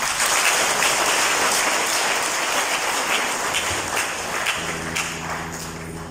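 A church congregation applauds at Mass, a dense, steady wash of many hands clapping in a reverberant hall that holds level for several seconds, with a faint low tone entering near the end.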